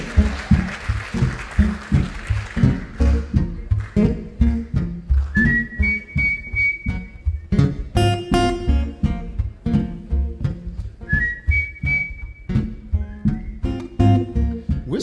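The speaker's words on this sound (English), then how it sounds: "Whistling is actually more difficult than it looks." A performer whistles clear sustained melodic notes on stage at a live concert at the Stoltz Pavilion, over rhythmic strummed guitar and percussive accompaniment, loud and near.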